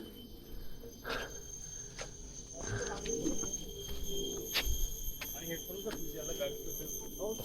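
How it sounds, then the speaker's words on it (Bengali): Birds call outdoors in a hilly wooded park, with thin whistle-like calls and a few cooing notes repeating at a distance while people talk close by, along with footsteps and a steady hiss of background noise. "পাখি পাখি দেখো কা"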